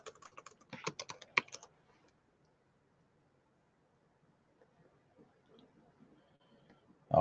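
Quick bursts of keystrokes on a computer keyboard, a short cluster of clicks at the start, then near silence with faint scattered taps.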